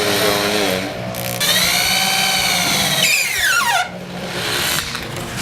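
A power drill bores into thick solid wood for a rack install, its motor whining steadily and loudly, with pitch sweeps as the bit slows and speeds up under load.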